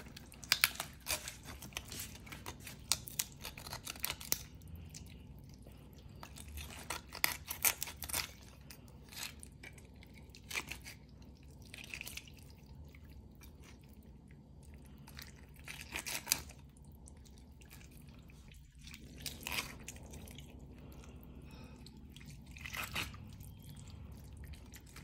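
Raw chicken being cut in two with a knife or scissors, heard as faint close snips and crunching cuts spread over a long quiet stretch, with no talk.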